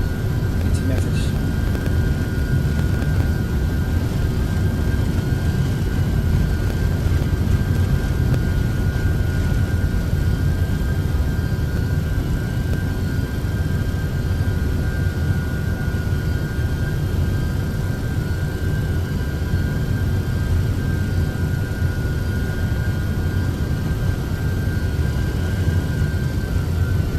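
MD-11F cargo jet engines in the X-Plane 12 flight simulator build a loud, steady, unbroken roar for the takeoff run, with a faint high whine riding over the continuous rumble.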